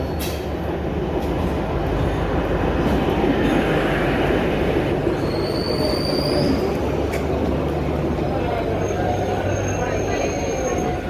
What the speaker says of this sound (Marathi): मित्रांनो ट्रेन आता आलेल्या आहे